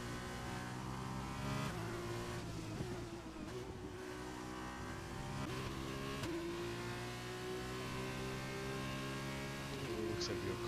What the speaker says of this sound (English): Looks like we have car spun out in sector 3 there.